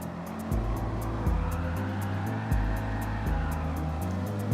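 Chevrolet Corvette in Gran Turismo 7, its engine note climbing in repeated revving sweeps as the car accelerates through gear changes, loud and continuous with no talk.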